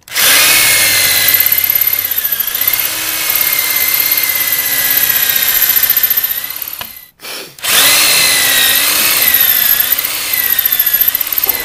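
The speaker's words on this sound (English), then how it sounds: "drill out two security bolts to remove the ignition assembly" A power drill drills out two security bolts to remove a motorcycle's ignition assembly near the handlebars. It gives a loud, steady high whine that cuts out briefly around the middle and then resumes at full strength.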